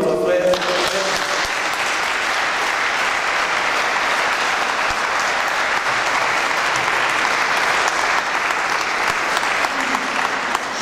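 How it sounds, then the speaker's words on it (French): A congregation at a memorial Mass in Brussels claps loudly and steadily for about ten seconds, a dense wash of applause filling the church after a short moment of speech at the start. "Est-ce que nous pouvons applaudir pour nos frères?"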